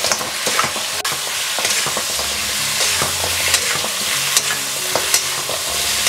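Loud, close wok stir-frying of pork trotters with light and dark soy sauce and sugar, a spatula scraping and tossing in bursts over a continuous sizzle, no talking.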